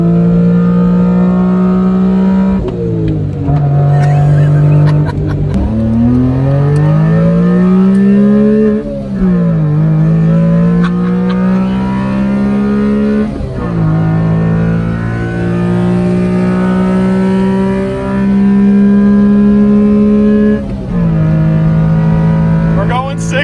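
A small mid-engine Honda Beat kei car engine drones and rises in pitch repeatedly, climbing through gears with brief dips at each shift, loud and close.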